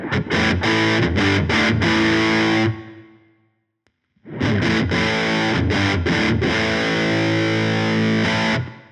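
Electric guitar played through stacked Wampler TCD and Fulltone OCD overdrive pedals with both switches engaged, giving a loud, saturated driven tone in rhythmic chord bursts, a pause of about a second and a half, then another driven strummed passage.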